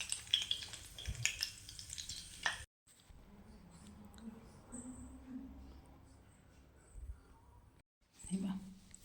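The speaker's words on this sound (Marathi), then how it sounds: "आता तेल टाकलं ना, असं मोहरी टाकून द्यायची याच्यामध्ये आणि नंतर जिरं टाकायचं" Mustard seeds and cumin crackle and sizzle in hot oil for a besan vadi, a steady frying hiss with scattered pops and a few utensil clinks, fairly faint, with a brief gap partway through.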